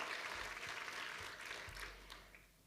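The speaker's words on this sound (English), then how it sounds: "Can we give a round of applause for all of the work that was done?" An audience at a regional civic address applauding, a steady wash of clapping from many hands, fairly distant and quiet, that fades over a few seconds.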